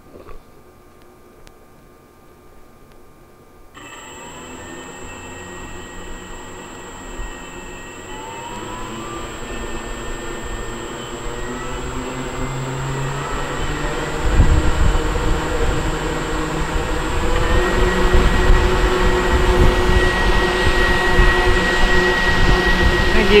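An electric motor runs on a dynamometer below half throttle outdoors, giving a steady high whine with a jet-like rush that builds gradually and grows louder partway through. No one speaks.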